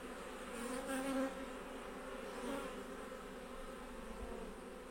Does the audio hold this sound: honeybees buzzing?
yes